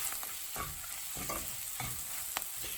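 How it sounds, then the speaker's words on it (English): Onions for French onion soup being stirred in a pan, a soft steady sizzle with a handful of spoon scrapes and taps at irregular moments, close but fairly quiet, without speech. "Just keep stirring."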